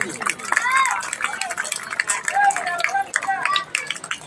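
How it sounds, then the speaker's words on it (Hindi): Audience clapping at a Hindu gathering, uneven bursts of hand claps mixed with crowd murmur and a few voices, moderately close and lively over a few seconds. "तो इसी अपेक्षा के साथ में तालियां बजती रहनी चाहिए।"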